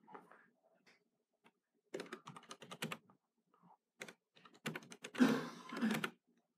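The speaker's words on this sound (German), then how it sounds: "Man soll nicht zu schnell tippen." Quick bursts of typing on a computer keyboard at a desktop, with irregular clusters of clicky keystrokes and short pauses between them, close and fairly quiet, with no speech.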